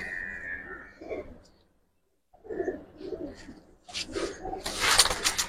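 Gribaz pigeons in a loft coo in low, throaty bursts, a few spaced phrases with a brief silent gap, close by and moderately loud, ending in a brighter flurry.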